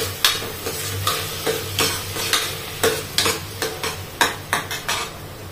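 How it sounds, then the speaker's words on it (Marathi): Washed lentils being sautéed in a hot pan, with a steady sizzle under rhythmic scraping strokes of a spoon against the pan, close and fairly loud. "ही स्वच्छ धुतलेली डाळ टाकायची। परतवून घ्यायची पण चांगली, एक अर्धा मिनिट फक्त छान परतवून घ्यायची।"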